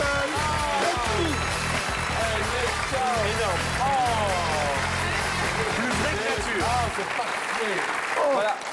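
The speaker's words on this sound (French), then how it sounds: "On peut l'applaudir." Studio audience applause on a French television comedy talk show, a dense, steady wash of clapping lasting several seconds with voices and cheers mixed in, then thinning out near the end.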